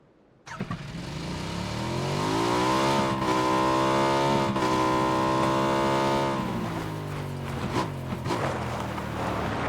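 Motorcycle engine in the video game PUBG, a loud steady drone that rises in pitch as it accelerates, holds at high revs, then drops away near the end, with no talk over it.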